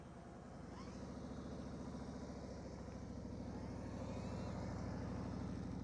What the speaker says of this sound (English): You guys hear his engine?